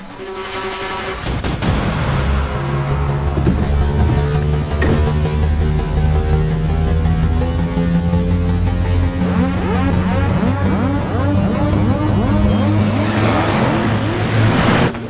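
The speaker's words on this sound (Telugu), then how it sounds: "స్కార్పియో హాస్పిటల్ లోపలికి వెళ్ళకుండా స్ట్రైట్ గా వెళ్తుంది." A Scorpio SUV drives past in a Telugu movie scene, its engine a loud, continuous roar whose pitch rises and shifts as it moves.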